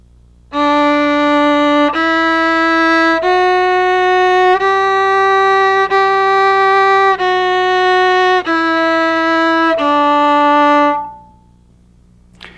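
A bowed violin plays a slow rising and falling run of eight sustained notes, each held about a second and a half, steady and clear with no talking.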